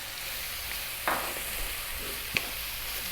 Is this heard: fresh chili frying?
yes